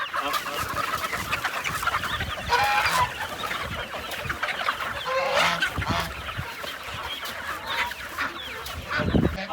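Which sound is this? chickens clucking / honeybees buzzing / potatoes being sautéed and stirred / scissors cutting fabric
chickens clucking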